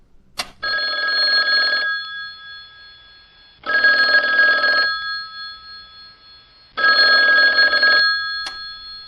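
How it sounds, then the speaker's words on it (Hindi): A telephone bell rings in three long, loud bursts separated by quiet pauses, close and clear with nothing else underneath. "अचानक फोन की घंटी बजी।"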